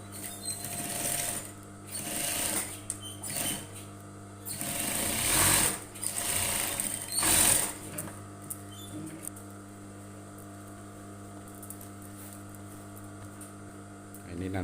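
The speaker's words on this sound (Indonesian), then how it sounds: "di sini bisa ditambahkan lagi jahitan biar lebih paten pas di bibir ya" A sewing machine stitches a blazer pocket flap in several rapid buzzing runs separated by pauses, close and loud over a steady background hum.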